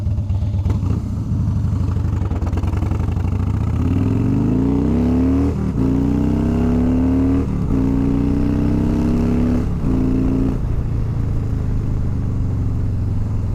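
Harley-Davidson Fat Boy motorcycle pulling away and accelerating, its engine close and loud, rising in pitch through several gear changes with a steady throaty rumble and no talking.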